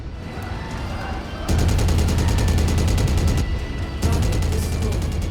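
A mech's machine guns in MechWarrior rattle in rapid, loud sustained bursts, with one long volley, a brief pause, then another stream of fire over a low engine rumble.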